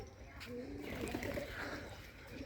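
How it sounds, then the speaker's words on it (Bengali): Rajshahi Giribaz and Bombay pigeons cooing in a loft, a low steady murmur of overlapping coos close by with faint background noise. "দেখুন কবুতরগুলো"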